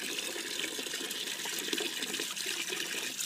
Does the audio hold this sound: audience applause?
no